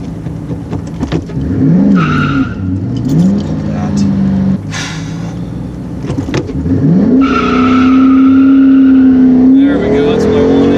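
A Ford Mustang with upgraded brakes races in reverse, its engine revving and dropping in sweeping pitch swings alongside short tire squeals, loud and close, with someone talking over parts of it.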